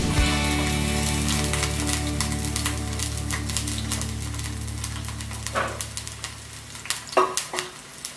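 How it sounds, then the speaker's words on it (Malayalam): Chopped onions, three or four cut into small pieces, fry in hot coconut oil for poti curry, giving a loud, steady close sizzle with stirring clatters toward the end and no talking. "എണ്ണ ചൂടായതിനു ശേഷം ഒരു 3-4 കഷ്ണം ഉള്ളി ചെറിയ കഷ്ണങ്ങളാക്കി കട്ട് ചെയ്ത് നമുക്ക് ഇട്ട്"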